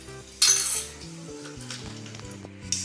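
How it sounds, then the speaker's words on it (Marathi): Mustard seeds drop into hot oil in a kitchen pan with a brief bright sizzle, followed by quieter clinks of utensils against metal and a second short crackle at the end. "तेल आपलं तापले, त्यामध्ये मी मोहरी टाकते,"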